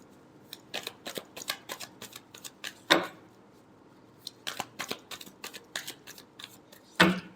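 Tarot cards are shuffled by hand close up: quick runs of crisp flicking taps in bursts, each ending with a sharper snap as the deck is squared.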